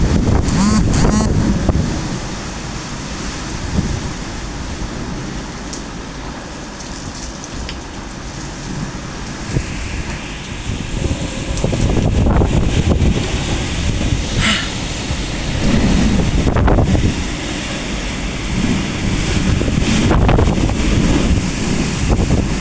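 Hurricane Melissa lashes an apartment patio with heavy rain and roaring wind, sustained gusts buffeting the microphone in loud surges that swell and ease over about twenty seconds.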